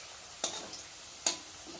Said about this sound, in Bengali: সুন্দর লাল লাল করে ভেজে নিয়েছি।